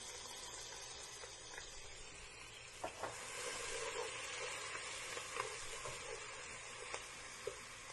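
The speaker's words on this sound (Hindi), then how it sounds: "जब ऑयल गर्म हो जाए तो इसमें आप डाल दीजिए जिंजर गार्लिक पेस्ट" Ginger garlic paste sizzling and frying in hot oil in a pan while being stirred, a steady crackling hiss with a few sharper spatters and scrapes, fairly quiet and close, with no talk over it.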